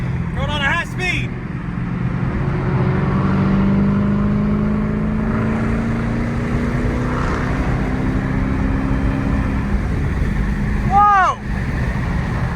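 A Dodge SRT Hellcat surges hard at high speed with a loud, sustained engine roar and rising whine, while someone talks and exclaims over it.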